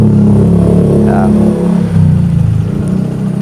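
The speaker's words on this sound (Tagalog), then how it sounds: "Medyo magarit pang mandar talaga yung mga ganyang brand new na makina." A brand-new engine on a fishing boat runs steadily at close range, a loud, continuous low drone and rumble with faint clatter during a test drive, and no voices over it.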